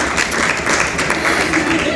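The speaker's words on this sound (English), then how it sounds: "Put your hands together for Team 2 and Team 3." An audience applauds finalist moot court teams at a university law clinic competition, with steady, dense clapping from a crowd in a hall and a voice speaking over it.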